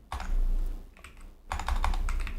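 Typing on a computer keyboard while setting up Neovim: two bursts of rapid, close key clicks separated by a short pause, with no talking.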